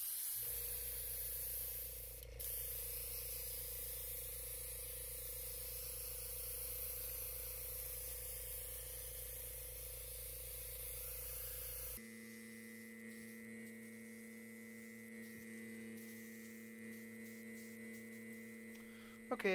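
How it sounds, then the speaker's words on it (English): Aerosol silver enamel paint sprays steadily over black model claws, a continuous close hiss that runs for about twelve seconds before cutting off and leaving a low electrical hum. "I'm just going to overspray the black with an even, consistent layer of silver"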